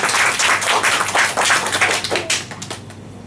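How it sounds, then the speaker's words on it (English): A Toastmasters club audience gives a round of applause, a short burst of close clapping from a small group that thins out and fades after about two seconds. "Give her another round of applause."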